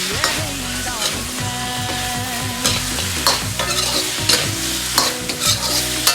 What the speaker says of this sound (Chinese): 保持中火炒至大概2分钟左右，让排骨炒上颜色，炒出香味